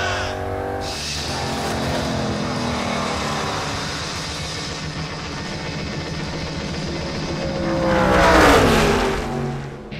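Race car engine at high revs on the Daytona back straightaway, a loud sustained roar with steady tonal whine that swells near the end, no voices.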